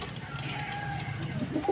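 A pigeon calls briefly amid muffled background noise, soft cooing notes near the end of a short moment.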